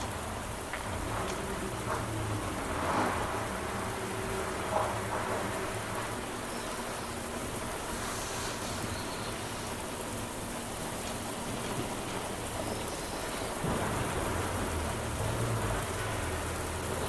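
Steady rain pours in a dense, even hiss throughout a thunderstorm, with only the faintest hint of distant low thunder rumbling beneath it.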